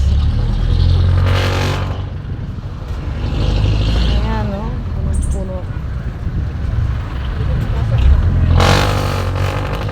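Heavy road traffic in a jam on a five-lane road, a continuous rumble of car and truck engines nearby with occasional vehicles revving or passing, while people talk over it.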